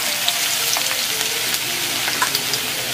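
Ginger and garlic sizzle in hot oil in a pan, giving a steady close-up crackle with small pops and the occasional stir, and no talking over it.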